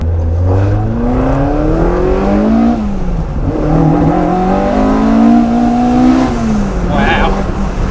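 A modified Peugeot 205 GTI engine revving up through rising, buzzing pitches with brief drops between gear changes, loud and close, heard from inside the car.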